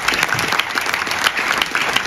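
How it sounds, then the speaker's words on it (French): An audience at the Val d'Europe Agglomération business awards ceremony applauds, a dense, steady burst of clapping filling the short stretch with no voices. "nous pouvons tous applaudir Benoît Mouton de Crécré Action"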